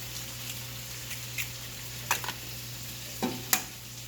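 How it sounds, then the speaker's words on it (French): Vegetables fry quietly in a pan at a farm breakfast, a faint steady sizzle broken by a few sharp stirring clicks and scrapes, with no voices. "Entendez-vous le son des légumes, là?"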